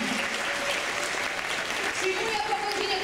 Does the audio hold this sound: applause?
yes